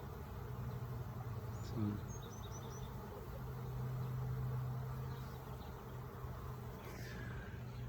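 A soft, continuous insect buzz hums in the background, honey bees droning steadily around a hive, with a faint low tone and distant bird chirps.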